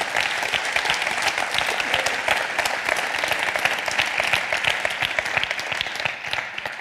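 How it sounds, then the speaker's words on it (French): Sustained applause from a conference audience, a dense steady wash of many hands clapping at even loudness throughout, with no talking over it. "Xavier Guilloux, qu'on peut déjà applaudir."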